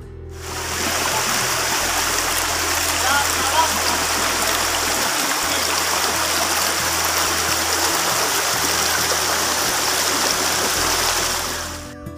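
Running water rushes steadily, a broad continuous hiss of a shallow river in the dry season that fades in at the start and out at the end.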